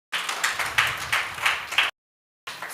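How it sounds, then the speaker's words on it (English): An audience at a conference on African economic growth and trade mis-invoicing applauds a speaker. The steady, moderately loud clapping swells in quick pulses for about two seconds, cuts off, then briefly resumes. "I think you can give him another a round of applause"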